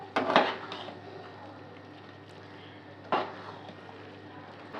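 A utensil stirs chicken tarka in a pan, with two distinct metallic clanks of spoon against pan several seconds apart and a low, quiet stretch between them.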